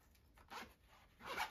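A short zipper pull, two quick rasping strokes close by in a quiet room.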